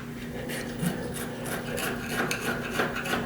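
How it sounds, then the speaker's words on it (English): A razor blade scrapes old, moldy caulk away from a shower joint, producing close, rasping strokes that repeat in a steady rhythm over a faint background hum. "when I scrape, I like to scrape toward this inside because that's going to be covered up."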